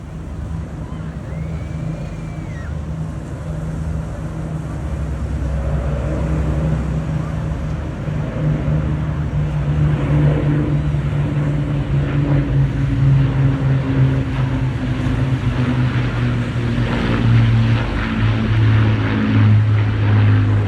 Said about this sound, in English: You will now be greeted by the sound of Merlin engines, not only the most iconic aero engine ever built, but also the most instantly recognisable